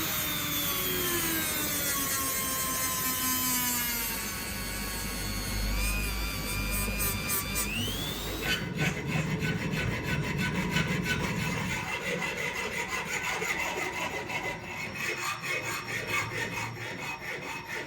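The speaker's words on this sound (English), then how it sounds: "Filing across the bevels to feel for high spots." A hand file rasps steadily across the bevels of a kunai blade forged from leaf spring steel, with long, even back-and-forth strokes close up and no voices.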